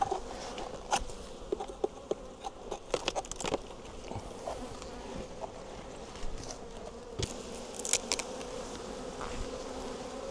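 Defensive honey bees swarm around an opened hive, a continuous close buzzing with individual bees zipping past the microphone in sharp, loud passes.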